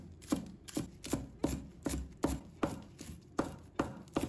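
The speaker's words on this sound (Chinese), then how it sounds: "把它切葱花。" A knife chops green onion leaves on a board in a home kitchen, about eleven crisp, evenly spaced cuts in a steady rhythm, close and clear with no talking.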